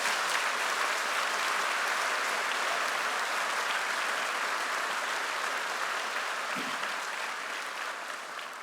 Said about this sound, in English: Could you give them a round of applause as well?